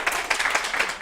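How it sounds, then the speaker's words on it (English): Brief scattered clapping from a small audience at a spiritual mediumship event, a few quick bursts of hands in a short run. "applause"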